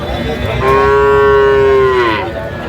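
A Sahiwal bull calf moos once, loud and close, in a single sustained call lasting over a second at a cattle market, with faint background murmur.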